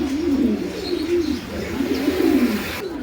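Pigeons at a pigeon sale coo in repeated rolling calls, loud and close, with a few faint higher chirps behind and no talk over them.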